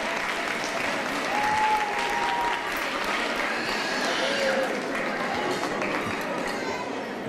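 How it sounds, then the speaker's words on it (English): Guests at a fundraiser give a long, steady round of applause, dense and fairly even in loudness throughout, with a few faint voices and cheers mixed into the clapping. "let's give a big round of applause to Carmen."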